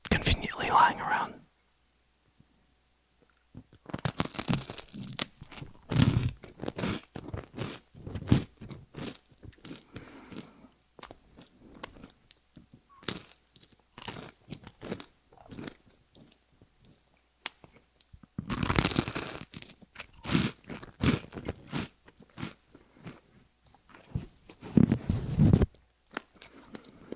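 Crunchy toast is bitten and chewed close to the mic in a string of crisp, irregular crunches, broken up by quiet gaps and soft whispering.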